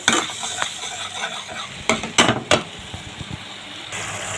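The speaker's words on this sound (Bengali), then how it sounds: "এবার মশলাটা খুব সুন্দর করে কষিয়ে নেব" A spice paste for a spicy giant prawn curry is stirred and sautéed in a pan: loud close sizzling broken by several scraping spatula strokes and clatters against the metal, with no talking.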